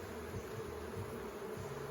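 Honey bees hum in a soft, steady drone at a beehive during an inspection, faint and continuous with no voices.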